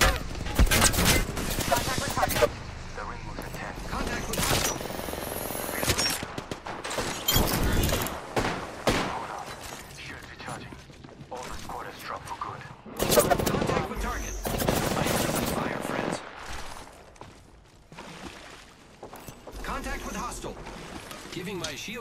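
Apex Legends gunfire during a ranked match crackles in rapid automatic bursts and single shots, loud and close. Quieter gaps fall between the volleys.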